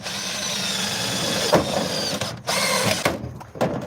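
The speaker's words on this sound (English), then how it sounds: "I just want to drill the corners." A power drill bores into the corners of a workpiece with a sustained high whine, then breaks into a few short stops and restarts near the end.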